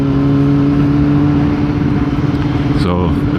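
Motorcycle engine droning steadily in third gear at about 30, a continuous near hum that shifts pitch briefly near the end, with wind rush around it.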